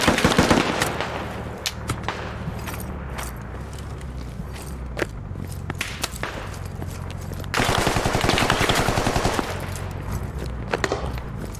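Rapid gunfire in the Squad military shooter, dense bursts of automatic shots and single cracks over a continuous low rumble, loud and close, with a heavier burst partway through.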